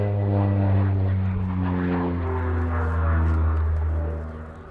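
An OV-10 Bronco twin-propeller aircraft passes at an airshow at RAF Cosford, flying fairly slow and low, its loud droning engines rising and shifting in pitch before fading slightly at the end.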